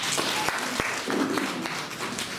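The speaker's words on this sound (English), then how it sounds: "A bigger round of applause for Dr. Edwards." A round of applause for Dr. Edwards after his presentation, a short burst of clapping from a modest audience with a few distinct sharp claps standing out, close and moderately loud.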